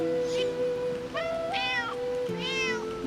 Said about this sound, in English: I actually got surprised at the cat sound.